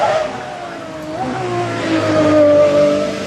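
An Aston Martin Valkyrie hypercar drives past with a high-pitched engine whine that rises and swells as it accelerates, heard from a moderate distance and loudest toward the end.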